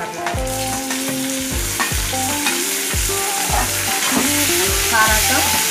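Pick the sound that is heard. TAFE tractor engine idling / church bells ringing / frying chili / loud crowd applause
frying chili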